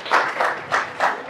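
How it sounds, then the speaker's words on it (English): A small workshop audience at a college claps in four distinct short bursts, fairly faint and spaced evenly, like a few people applauding in a room. "This deserves applause."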